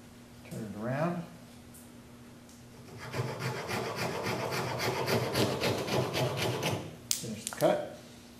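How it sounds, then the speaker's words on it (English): A hand saw cuts a wooden fly rod reel seat held on a vise, giving a steady, close rasping stroke pattern in the middle, with brief quiet sounds before and after. "Then we'll make a cut here."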